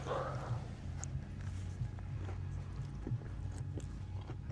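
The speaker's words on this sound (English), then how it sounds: "The lettuce provides like a perfect crunch to it" Crunchy lettuce in a salad with a little cheese being chewed close up at a campsite, steady crisp bites and mastication repeating through the clip over low background noise.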